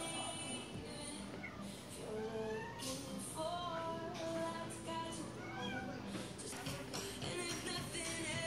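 Several cats meowing intermittently, some high and drawn-out, amid a busy indoor Petco pet store murmur with faint background voices.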